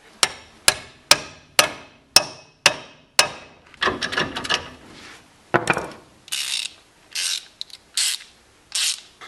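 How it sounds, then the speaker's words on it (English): A ratchet wrench works on the brake caliper bolts of a BMW E36, first with a regular series of sharp, loud clicks and then with quicker bursts of ratcheting, close up and with no talk. "That's probably not doing me ratchet any good"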